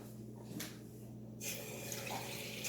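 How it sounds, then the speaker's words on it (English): Water poured from a tap into a cooking pot of pot roast with broth, a steady close rushing flow that swells louder partway through, with no talking. "I think I'm going to add a little more water."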